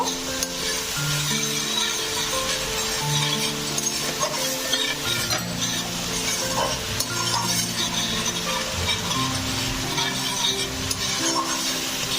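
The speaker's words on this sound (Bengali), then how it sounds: "এখন মশলাটা ভালো করে কষিয়ে নেব।" Spice paste (masala) for fish head ghonto stir-fried in a pan, a continuous close sizzle with the scrape and clink of a spatula stirring throughout.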